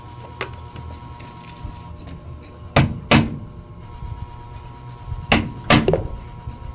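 Garlic pounded for salted dried fish, heavy dull thuds landing in pairs with pauses between them, close and loud, with faint room noise in the gaps.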